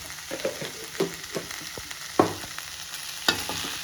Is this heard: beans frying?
yes